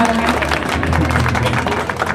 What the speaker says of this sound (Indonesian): Kita beri tepuk tangan untuk kedua kekasih kita